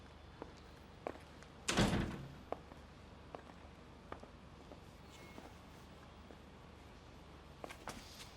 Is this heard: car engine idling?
no